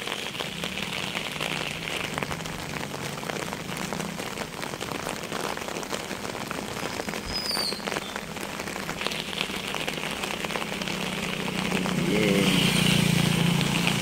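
Heavy rain pours steadily over a village, a dense continuous hiss that swells louder near the end, with a brief vehicle pass and faint engine hum in the background.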